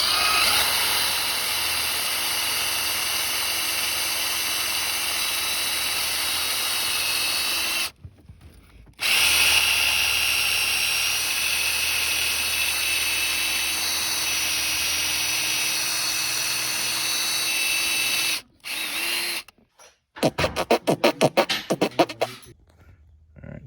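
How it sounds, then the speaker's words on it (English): A power drill bores out rivets on a Hurst shifter in a Cadillac CTS-V, a loud steady whine held for long stretches, two brief pauses, then short stuttering bursts of drilling near the end. "So after drilling forever, we finally got those rivets out."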